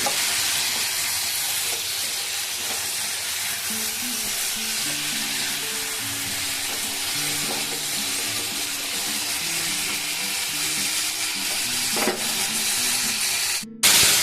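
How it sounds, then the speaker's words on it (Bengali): Boiled chickpeas fry in a pan with cumin and salt, giving a loud, dense, continuous sizzle that holds steady close up for the whole stretch, with faint tonal sounds in the background. "এবার একটু ভেজে নেবো"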